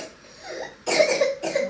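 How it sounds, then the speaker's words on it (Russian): A young child coughs in a home kitchen, first a faint throaty sound and then two loud close coughing bursts, with no talking during the sounds. "Ты опять кашляешь, да"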